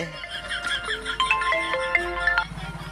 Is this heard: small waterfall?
no